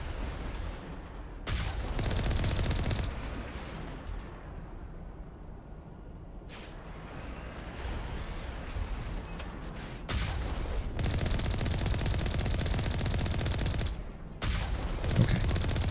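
Rocket launcher blasts and gunfire in the Mass Effect video game, bursts of heavy rapid firing and booms broken by short quiet gaps, loud and close.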